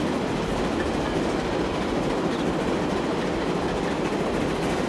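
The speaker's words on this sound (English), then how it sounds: "So here comes another train." An express Pullman train on a UK route in Transport Fever 2 rolls past with a steady, loud rumble and a faint clickety-clack of wheels on rails, continuous throughout with no voices.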